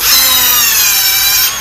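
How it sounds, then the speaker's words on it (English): An old Snap-on power drill runs close and loud with a bright, high whining motor tone that holds steady and then eases slightly at the end. "Here's my older than snot snap-on drill."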